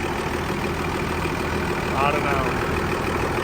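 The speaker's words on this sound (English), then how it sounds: "just your typical smooth running little Oliver diesel." An old Oliver diesel tractor engine idles smoothly and steadily throughout at close range, with someone speaking briefly over the rumble.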